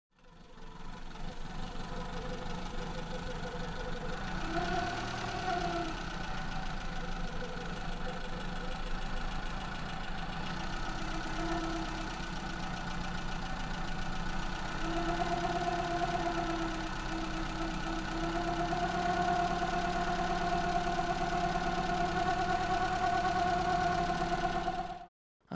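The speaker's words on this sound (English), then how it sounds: "So the engine is now at idling RPM." A Maruti Zen petrol engine with a carburetor idles steadily for the whole stretch, with a continuous mid-pitched hum and light knocking. The tone rises slightly partway through as the idle mixture is adjusted.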